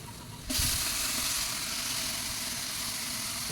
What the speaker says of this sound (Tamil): இதில் வந்து பட்டை கிராம்பு ஏலக்காய் இஞ்சி பூண்டு பேஸ்ட் போட்டு நல்லா எண்ணெயில் வணக்கணும்